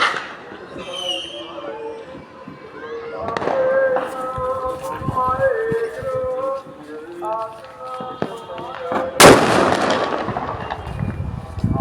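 Several sharp firecracker bangs during village Diwali night celebrations, one especially loud blast standing out, with people talking and chattering nearby throughout.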